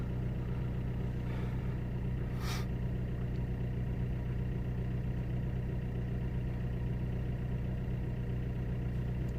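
A Vauxhall/Opel Corsa D 1.3 CDTi diesel with a P0204 injector fault idles steadily, a low continuous hum with no revving, heard from a short distance.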